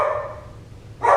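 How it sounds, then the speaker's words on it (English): A dog barks in the background: a steady bark at the start, a quiet gap, then a second sharp bark near the end, each at moderate loudness with no talk. "That's a dog barking in the background."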